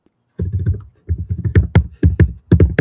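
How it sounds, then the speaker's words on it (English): Computer keyboard typing sits loud and close to the microphone, quick clusters of clacking keystrokes arriving in rapid bursts with brief pauses between them. "we got to get your keyboard away from your microphone, brother man. That's loud."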